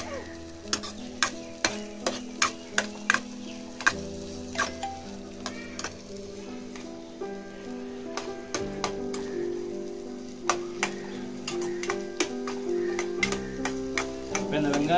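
Onions fry on a slow flame for an egg gravy, giving a low sizzle with scattered sharp crackles and pops over a steady tonal hum.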